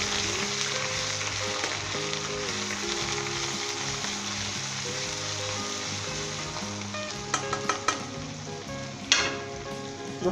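Ginger garlic paste fries in hot oil inside a kadai for an azeem murgh chicken masala, giving a steady broadband sizzle with a few sharper spatters and scrapes near the end and no voices.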